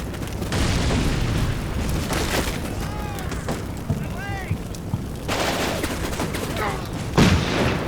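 Gunfire and booming explosions from the wargame Combat Mission Black Sea, dense overlapping bursts and blasts rolling on continuously, with speech mixed in over the battle.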